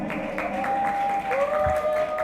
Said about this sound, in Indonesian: Beri tepuk tangannya untuk asrama BGS